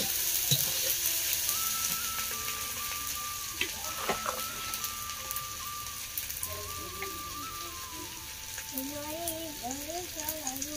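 Onion, ginger, garlic masala and tomatoes frying in a pan during a rainy-weather egg curry cook, giving a steady close sizzle throughout, with faint birdlike chirps and brief scraping stirs over it.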